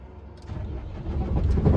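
A truck engine starting off on a highway, a low rumble rising steadily in loudness as the vehicle pulls away, close and without talk.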